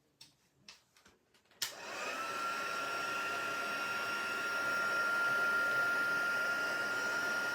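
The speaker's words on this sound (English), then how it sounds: "Let's heat this one up." A heat tool heating gilding flakes on a card switches on after a few faint taps and then blows a steady, close whooshing whir with a thin whine that continues to the end.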